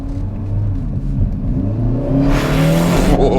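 A 2022 Kia Forte GT with a sport tuned exhaust accelerates hard, its engine note climbing steadily in pitch with a loud, close, rising drone, followed by a burst of hiss near the end.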